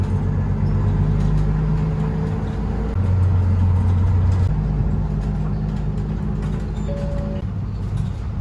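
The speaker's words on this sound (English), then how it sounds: "I'll go to hotel by bus." A bus engine drones steadily from inside the cabin during the ride to a hotel from Okutama Station, with a constant low rumble and faint shifting engine tones.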